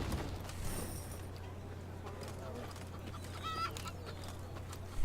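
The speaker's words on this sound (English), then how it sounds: "Chickens!" Chickens cluck in Thronebreaker: The Witcher Tales, small bursts of clucking over a steady game ambience with faint hoof-like clops, no talk.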